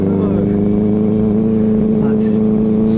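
A Harley-Davidson superbike with a large 1200–1800 cc engine runs on an Indian road with a loud, steady, deep throbbing hum that holds close and constant throughout.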